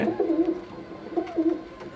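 Pigeons coo in low, throaty repeated phrases, two bursts about a second apart, close and fairly clear over a faint background.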